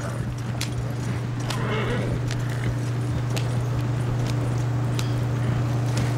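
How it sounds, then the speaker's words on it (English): Hooves of a horse galloping in a video game, a run of quick clopping beats over a steady low engine-like hum, with light rattling and occasional voices. "The horse is still going."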